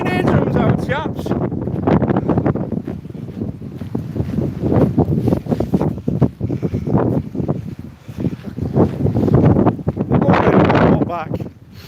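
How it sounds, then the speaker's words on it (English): Strong, biting cold Swedish wind buffets the microphone at a lakeside in Gothenburg, a loud continuous rumbling roar with gusty surges throughout. "You probably can't hear because of the wind, to be honest."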